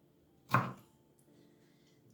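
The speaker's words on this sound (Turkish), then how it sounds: "Bu şekilde doğruyorum." A knife makes a single crisp chop through fresh bell peppers on a board, close and isolated in a quiet room, with a faint second cut at the very end.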